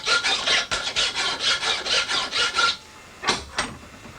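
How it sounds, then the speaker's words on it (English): A hand file rasps waste metal off a steel knife blank clamped in a vise, with about a dozen quick rhythmic strokes up close, a brief pause, then two more strokes. "You put it in the vise, and then you file the waste material off."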